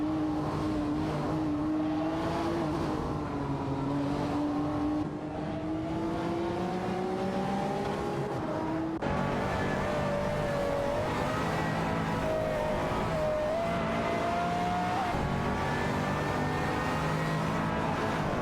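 Video game race cars, a McLaren F1 GT and a Ferrari F60 America, drone in sustained high-revving engine tones that rise and shift through gears, loud and continuous.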